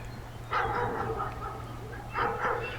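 A dog gives two short bursts of barking or yipping, close by and moderately loud, over a low steady background hum.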